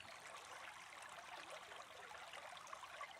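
A river stream flows with a soft, steady trickling and rushing of water, faint and continuous.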